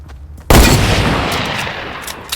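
A single loud hunting rifle shot rings out in the Fortnite video game, a sharp close blast that leaves a long rumbling tail fading over about two seconds.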